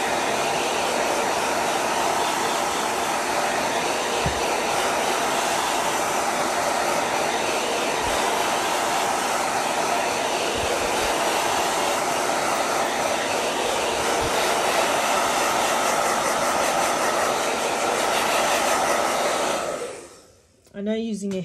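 A hair dryer blows close and loud for about twenty seconds, drying paint on a Gelli printing plate, a steady whooshing roar that cuts off abruptly near the end.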